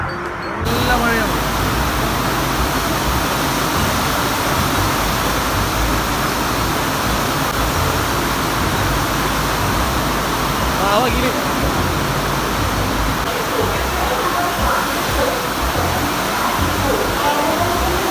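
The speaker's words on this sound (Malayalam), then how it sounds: "നല്ല മഴയാണ്." Heavy rain falls steadily on a train journey from Kerala to Delhi, a dense, unbroken roar of downpour that stays loud and even from start to finish.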